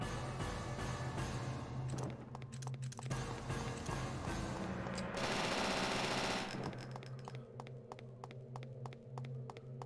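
Submachine gun fire in the video game Devil May Cry 2 rattles in fast repeated bursts, with a dense sustained volley in the middle and sharp single shots trailing off, over game background sound.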